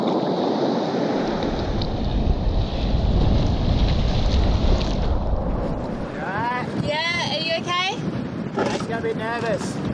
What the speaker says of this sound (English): That wind is really picking up with this squall